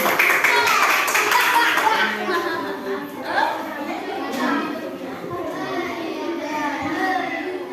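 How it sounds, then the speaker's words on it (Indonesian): A classroom of young children applauding a classmate during a primary school science lesson: brisk clapping at the start, then fading into children's chatter and voices. "tepuk tangan untuk Aisyah."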